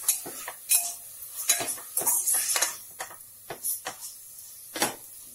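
Beetroot biryani being mixed in a cooking pot with salt and garam masala, heard as a series of quick metallic scrapes and clinks of a spoon against the pot, close and irregular.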